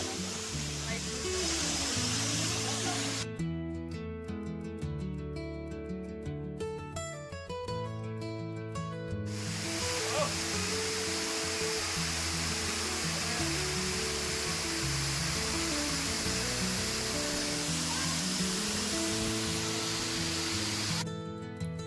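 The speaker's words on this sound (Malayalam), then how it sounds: "ഏകദേശം 50 അടി ഉയരത്തിൽ നിന്ന് വെള്ളം പതഞ്ഞ് താഴേക്ക് പതിച്ചുകൊണ്ടിരിക്കുകയാണ്" Water plunging from roughly 50 feet at a waterfall by a Himalayan garden, a steady broad roar that fills the whole stretch, with music playing underneath.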